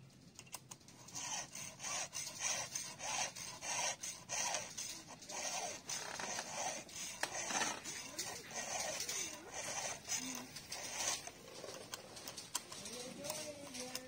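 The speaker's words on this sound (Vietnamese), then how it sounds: "Cái dỗ lưỡi cưa này nó có dễ không anh?" A metal file rasps in steady back-and-forth strokes on chainsaw teeth, rhythmic and close, with a few birds chirping in the background.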